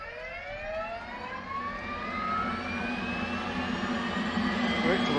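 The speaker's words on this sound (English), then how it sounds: "We then switch on the APU." The auxiliary power unit of an F/A-18 in the DCS World flight simulator spools up, a rising turbine whine climbing steadily in pitch over a growing roar that swells louder toward the end.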